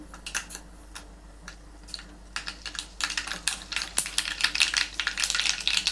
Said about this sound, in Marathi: मोहरी टाकलेली आहे तेलामध्ये.